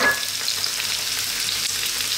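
Small-cut chopped onions frying in oil with a garlic and ginger paste, giving a loud, dense, even sizzle from close by, with a faint clink at the very start and no voices.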